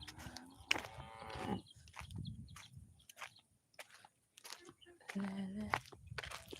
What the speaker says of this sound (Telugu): ఈ బర్రెల గుంపు చూస్తుంటే భయం వేస్తుంది